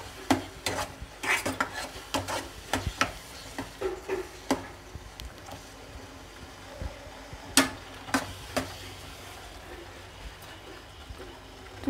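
Carrot halwa is stirred in a pan as sugar dissolves, with a spoon repeatedly scraping and clacking against the metal in quick bursts that slow and thin out, over a faint sizzle.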